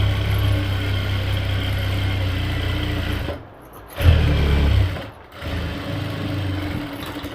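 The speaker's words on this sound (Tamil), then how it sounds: "அந்த இடத்துல ஒரு தையல் போட போகிறோம்" Motor hum and rapid stitching from a sewing machine sewing a dart on the back of a size 28 blouse, running steadily, briefly pausing twice, then continuing.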